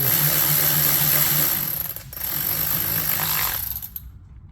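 A bolt being installed on a Mercedes 9G-Tronic nine-speed automatic transmission during a fluid service: loud, steady mechanical whirring from a power tool, a brief dip around the middle, then cutting off near the end.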